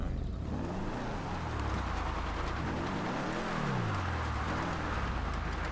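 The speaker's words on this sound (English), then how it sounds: "these people are actually racing" Cars race in the video game GTA 5, their engines droning steadily and loud, with one car's pitch swelling and falling as it revs and passes.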